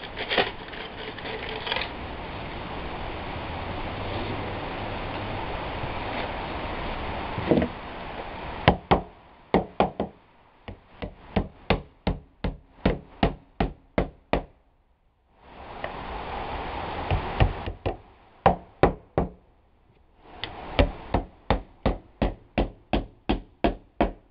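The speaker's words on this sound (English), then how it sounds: "we'll just nail this into place" A steady mechanical hum, then a series of sharp hammer blows driving nails into wood while building a shed wall, in quick bursts with short pauses, close and loud.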